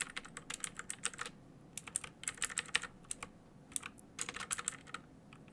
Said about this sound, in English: Use my keyboard a lot.